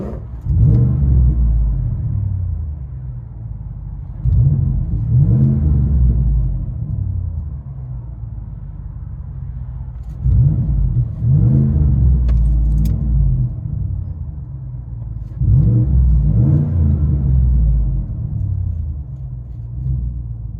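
A deep 5.3L V8 engine rumble from a 2017 GMC Sierra pickup with Flowmaster FlowFX exhaust, heard from inside the cab, swelling in four strong revving bursts that rise and fall, loud and close, with no talking.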